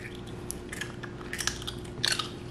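A dog crunches and chews a dried salmon skin treat close by, with a few sharp bites and crackles over a steady background hum.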